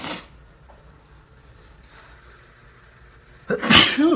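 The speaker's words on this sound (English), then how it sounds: "I just sneezed all over my page." A single loud, close sneeze bursts out at the end after near silence, with a softer breathy sound at the very start.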